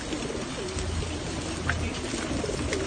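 Pigeons being fed coo softly in a low, steady murmur beneath constant outdoor background noise, with no clear talk.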